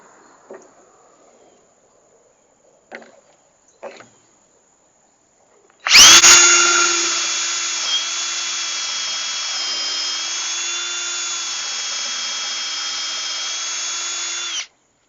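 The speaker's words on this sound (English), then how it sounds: "I'm going to go ahead and get started drilling." A few faint knocks, then a power drill kicks in loudly, drilling into plywood at a steady high-pitched whine for several seconds before stopping.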